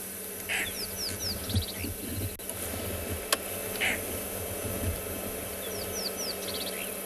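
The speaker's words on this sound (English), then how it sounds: "Possibly also hear a very irate roller behind us. Just doing a little bit of a shout." An irate roller bird calls at sunrise on a Tswalu safari, giving short bursts of harsh repeated notes twice, over a steady background hum and insect buzz.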